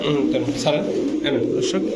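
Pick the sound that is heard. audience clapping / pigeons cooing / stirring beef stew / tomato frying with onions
pigeons cooing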